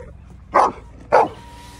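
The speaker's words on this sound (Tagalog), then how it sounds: "Hala, whose dog is that?" Two sharp, loud barks from loose neighborhood dogs ring out about half a second apart, close by, over a quiet background with no talking.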